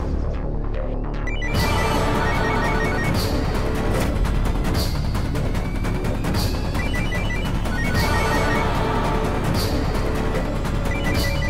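A telephone rings in a Hindi TV drama scene, a trilling ring that repeats in regular bursts over a loud, dense music score that runs throughout.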